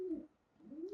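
A pigeon cooing close by: two soft, low, rising-and-falling coos separated by a brief pause, clear against a quiet background with no talking.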